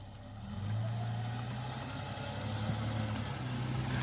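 A truck engine idles steadily in 4-wheel drive while stuck off-road, a low continuous rumble close by with a slight rise in level early on and no talking.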